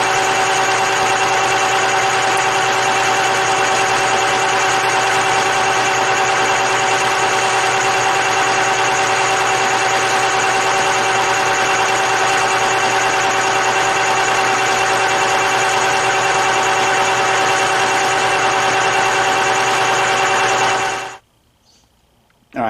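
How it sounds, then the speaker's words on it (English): A metal lathe turns a steel pin at high speed, giving a loud, constant motor whine and hum that holds steady for around twenty seconds before cutting off abruptly. "I've got that set for a pretty fast speed just to get the metal hogged off."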